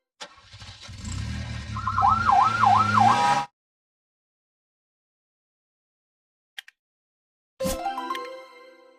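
A cartoon police car siren from a kids' car-building game wails in a quick up-and-down warble for about three seconds and cuts off abruptly. A short pause follows, then a brief burst of another game sound.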